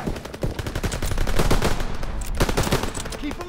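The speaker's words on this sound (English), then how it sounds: "MGs, open fire!" Rapid, sustained machine gun fire in a Call of Duty WWII battle, dense overlapping bursts of shots close and loud for the whole stretch, with no talk over it.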